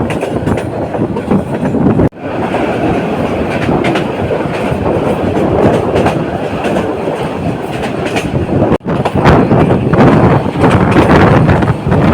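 A train bound for Chandpur, Bangladesh rumbles steadily along the rails with a rhythmic clickety-clack and wind buffeting the microphone, loud and close throughout.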